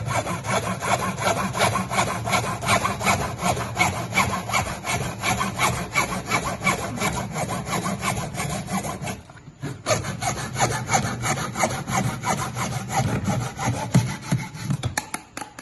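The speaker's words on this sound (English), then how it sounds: "So we'll use a hacksaw." A hacksaw cuts through stock for a budget-built snake rack in steady back-and-forth strokes, loud and close, with a brief pause near the middle before the sawing resumes.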